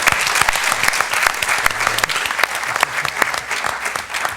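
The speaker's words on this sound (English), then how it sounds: "Let's give Joey a round of applause." An audience applauds a junior political science and history student at a forum, with steady, dense clapping throughout, loud and close, and no speech over it.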